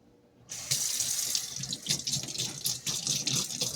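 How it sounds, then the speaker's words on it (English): A kitchen tap turns on after half a second of quiet and runs steadily, water splashing over plant leaves being rinsed in a sink, nearby and moderately loud. "Rinse the leaves."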